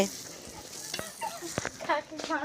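Ash gourd (chal kumra) frying in a pan, with a steady sizzle under scattered clinks and stirring scrapes, and faint bits of voice and chirpy background sounds now and then.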